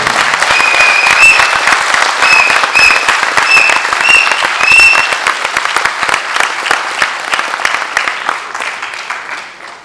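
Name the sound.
applause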